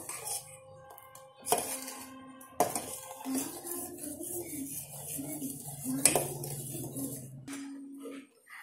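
A spoon scrapes and clinks against a pot of coconut rabdi cooking on a gas stove, several sharp metallic knocks among softer stirring scrapes, moderately faint, with no speech.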